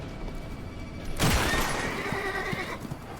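A spooked horse in Red Dead Redemption 2 lets out a sudden loud whinny that breaks into a tense quiet moment and trails off over a couple of seconds.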